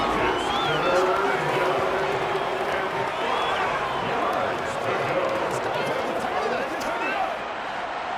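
A large stadium crowd in the Madden 23 football game roars continuously, a dense steady wall of cheering and chatter with no pauses, under a clear overlapping voice.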